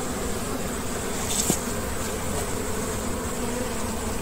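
Honeybees buzz steadily around an opened hive as combs are handled, a close, continuous drone with a brief tap partway through, no talking.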